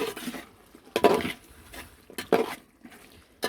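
Peeled, small-cut potatoes dropped into a cooking pot with meat in a home kitchen, giving a few distinct clattering thuds and knocks against the pot spaced across the moment, with quieter rustling between them.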